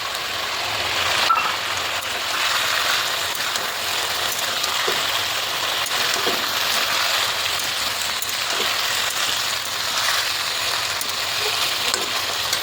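Potatoes fry with freshly added ginger-garlic paste in a pan, making a continuous crackling sizzle with scattered small pops and ticks throughout.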